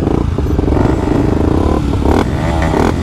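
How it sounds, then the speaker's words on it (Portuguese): A trail motorcycle on a dirt trail near São Paulo revs hard and close, its loud engine roaring steadily with rising pitch sweeps and mechanical clatter throughout. "Que o Eric acelera no 12, viu?"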